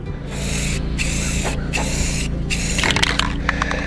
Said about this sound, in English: at least the spray painting will be there